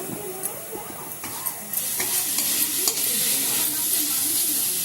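Onions frying with red chilli powder, stirred in a pan, a close hissing sizzle with intermittent scraping strokes that grow denser toward the end.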